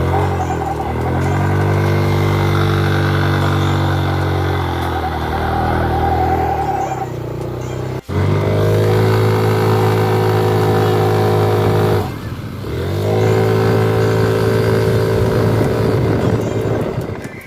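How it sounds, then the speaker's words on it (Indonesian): A Yamaha Aerox automatic scooter with a slipping drive belt drones loudly up close, its engine holding strained, wavering revs that dip and surge again twice, with no voices over it. "ini dia cuplikan motor aerob gua pas selipan belnya"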